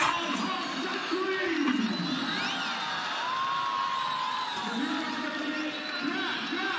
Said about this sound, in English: he raises a crowd, Rawalpindi, who thoroughly enjoyed this